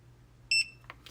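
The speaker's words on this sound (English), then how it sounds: "until you hear a beep" A single short electronic beep from a TireMinder TM 88C tire pressure monitor, clear and close, followed by faint clicks in a quiet room.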